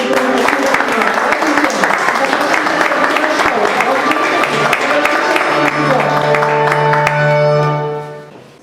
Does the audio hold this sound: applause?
yes